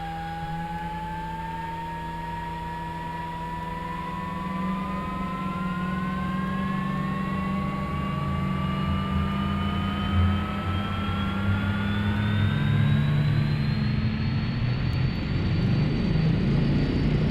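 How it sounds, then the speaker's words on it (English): Single aircraft engine spinning up in the X-Plane 11 flight simulator, a steady loud drone whose pitch climbs gradually over about seventeen seconds as it starts and gains speed, with no voices over it. "Let's go ahead and see if we can get an engine start."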